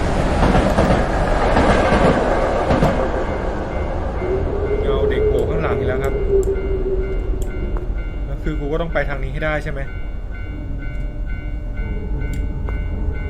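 A train in the Tsugunohi horror game roars loudly past on the railway tracks, then fades into a fainter clattering rumble while someone talks over it.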